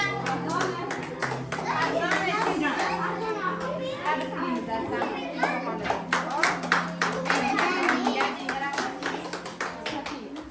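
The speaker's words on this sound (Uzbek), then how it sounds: "O'rtoqlar olqishlaymizmi?" Children applaud in a kindergarten group, scattered clapping bursts repeating across the whole stretch, with a steady hum and kids' voices chattering underneath.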